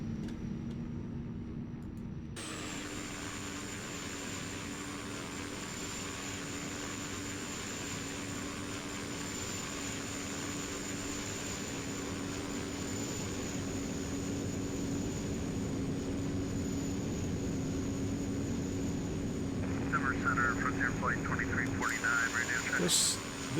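A Cessna Caravan turboprop in the X-Plane flight simulator, Thranda model, drones steadily with a constant engine tone and broadband roar that holds even for over twenty seconds, plus a brief higher buzzing near the end.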